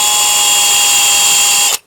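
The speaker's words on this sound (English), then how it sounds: "we're just going to start a pilot hole" Power drill boring a pilot hole in metal, a loud steady high whine held for nearly two seconds before stopping abruptly.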